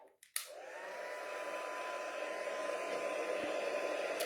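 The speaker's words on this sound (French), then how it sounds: "Je peux accélérer le chauffage avec mon pistolet chauffant." A heat gun switches on with a click and blows a steady, close, airy whir that holds constant for several seconds while drying texture paste on a papercraft project.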